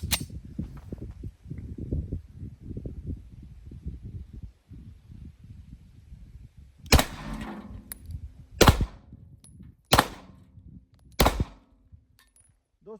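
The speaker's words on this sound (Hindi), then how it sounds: "मैंने 4 के 4 फायर" Four pistol shots are fired at a target on an outdoor range, sharp loud cracks spaced a second or two apart, following a stretch of low rustling and handling noise.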